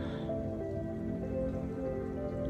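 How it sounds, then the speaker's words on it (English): A light drizzle falls near Jug Island, giving a soft, steady patter of small drops. It stays quiet and continuous over faint background hum, with no talking. "So with the drizzle coming down"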